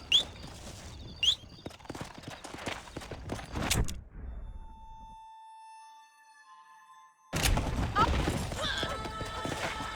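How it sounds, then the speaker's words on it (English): Horses in the video game Red Dead Redemption clip-clop at a steady walk, with close hoofbeats under spoken game dialogue. A short quiet gap interrupts them before the hooves resume. "Watch out for the horses!"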